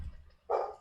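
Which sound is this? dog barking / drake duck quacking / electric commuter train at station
dog barking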